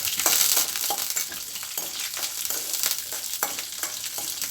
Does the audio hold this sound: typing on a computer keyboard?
no